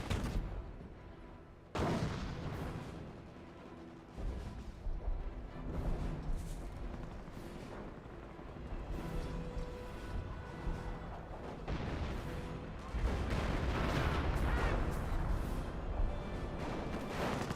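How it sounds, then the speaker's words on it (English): Artillery from 25-pounder or M2 guns in the game Company of Heroes: repeated heavy booms and blasts rolling over a dense, continuous battle din, with another round of fire building near the end. "those are 25-pounder or M2 firing over there"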